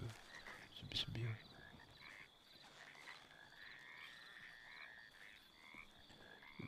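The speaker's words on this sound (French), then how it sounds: "Par contre, ils ont des grenouilles dans le coin" Frogs croaking in a chorus, fairly quiet and distant, with repeated rhythmic calls throughout and a louder burst near the start.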